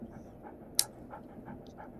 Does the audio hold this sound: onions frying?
no